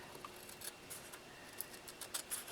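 Scissors snip paper while shaping paper roses, making several faint, crisp cuts that speed up toward the end, close by and quiet, with no talk.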